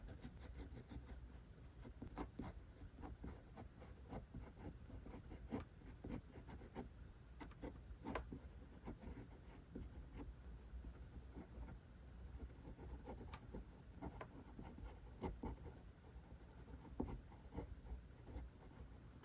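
A pencil sketches lightly on paper in a quiet room, giving a faint, continuous scratching of short strokes and soft rubbing with no voices.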